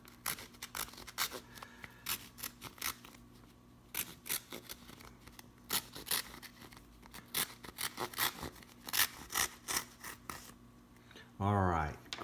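A package is cut and opened in a series of quick snipping and tearing strokes close by, with a short rough rip near the end.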